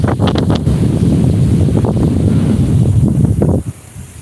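Steady wind gusting across open rice fields, a broad rushing roar buffeting the microphone, easing off abruptly near the end.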